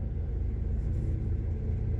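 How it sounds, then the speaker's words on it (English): Police car passing on a road, a low steady engine rumble rolling by at moderate distance without sirens or talk. "here's another cop car"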